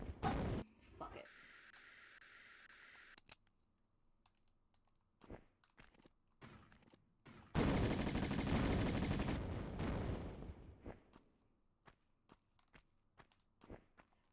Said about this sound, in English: at least with the Uzis, you can just hit the shoot button and she'll just continuously shoot.